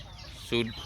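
An Elba laying hen, a white and brown breed, gives a single short cluck close by, heard alone.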